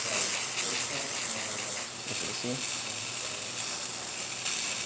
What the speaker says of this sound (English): when you hit the steam wand all the way up to use it, you're going to get a thermal block.